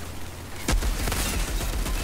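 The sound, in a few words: gunfire in the video game Outriders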